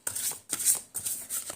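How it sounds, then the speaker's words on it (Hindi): Tarot cards being shuffled by hand in three quick, crisp bursts of papery riffling with short gaps between them. The sound is close and fairly quiet, with no voice. "so we will start shuffling the cards"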